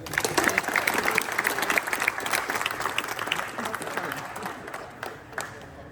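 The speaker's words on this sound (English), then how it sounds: "Everybody give a round of applause for the balloons" A round of applause at an office leaving-day gathering, brisk crowd clapping that swells early and tapers off, with a few last claps and voices as it fades.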